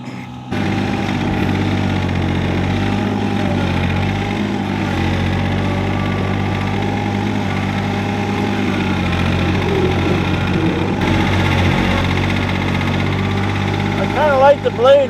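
John Deere 755 and 855 compact tractor engines idling after a cold start in icy winter conditions, giving a steady, close diesel rumble with a knocking vibration that runs unbroken and ends in a few louder bumps.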